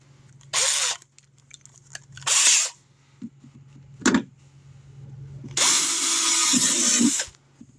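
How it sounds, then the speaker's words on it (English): A power drill with a 3/16 bit bores holes in a plastic battery box, giving four separate bursts of whirring and grinding, the last one long and steady, with a low background hum between them. "And then I want to enlarge to the next bit size to drill them out"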